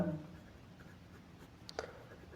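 Pen or chalk scratches faintly as an equation is written out by hand during a maths lesson, a quiet strokes-and-taps texture with a couple of sharper marks near the end.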